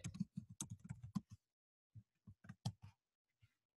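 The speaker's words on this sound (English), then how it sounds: "I can actually type a message" Keyboard typing, a quick burst of close key clicks followed by a pause and a few more scattered taps, crisp and alone in a quiet room.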